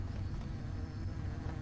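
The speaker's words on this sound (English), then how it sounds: "Why are there so many damn bees?" Swarm of bees buzzing in the video game Hungry Lamu, a steady low droning hum that holds throughout at a faint level with no talking.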